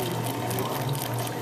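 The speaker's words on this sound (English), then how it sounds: "Pour it from the top. We call it pour over, or you can call it custom drip." Water poured steadily from above onto pour-over coffee grounds in an Oakland cafe, making a continuous close, even splashing rush with no break.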